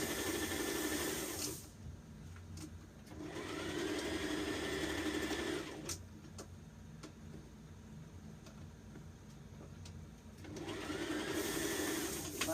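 A sewing machine stitching a dress seam runs in two bursts of steady whirring, close and moderately loud, separated by a quiet pause with faint clicks, and ends with a short back stitch.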